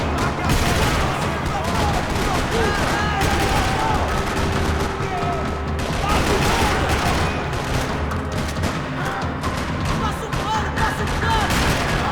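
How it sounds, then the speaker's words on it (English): Gunfire rattles through a parking lot in the video game Max Payne 3, with dense bursts of shots over a busy mix of effects and music that fills the whole stretch at a steady, loud level. "Another parking lot rattling with gunfire."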